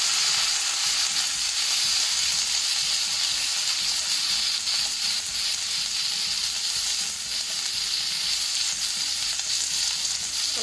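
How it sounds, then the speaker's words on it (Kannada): Sliced ivy gourd stir-fries in hot oil over a medium-low flame, giving a continuous close sizzle with occasional scraping and stirring sounds and no talk. "ಸ್ವಲ್ಪ ಹೀಗೆ ನಾವು ಸ್ಟಿರ್ ಫ್ರೈ ಮಾಡ್ಕೊಳ್ಳುವ ಎಣ್ಣೆಯಲ್ಲಿ."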